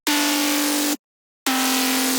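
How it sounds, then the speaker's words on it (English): Foghorn sample layered into a melodic drum and bass track produced in FL Studio, sounding as two long, loud, steady low blasts separated by a brief silence, heard alone. "Now in the B part, I'm adding this foghorn."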